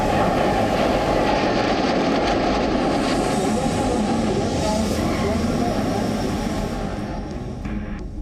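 An Indian-built LCH light combat helicopter flies overhead, giving a dense, steady rotor and engine roar that fills the scene, loud and continuous, under a voice speaking throughout.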